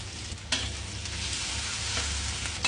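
Onions and dried shrimp frying in oil, a dense, even sizzle heard up close with a low hum underneath, broken by a couple of brief scraping stirs and no voices.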